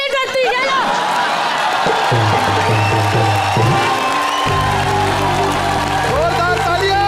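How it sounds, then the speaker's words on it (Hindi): A comedy show's studio audience claps and cheers in a thick continuous wash of applause, loud and close, while music and people talking sit underneath and over it. "जोरदार तालियां"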